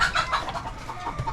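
Chickens clucking nearby in short, uneven bursts, with a few sharper squawks over a quiet background.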